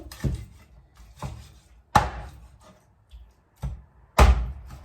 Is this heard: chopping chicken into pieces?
yes